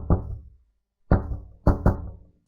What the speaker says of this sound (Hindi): घर के दरवाजे पर रोज 3 बार दस्तक होती थी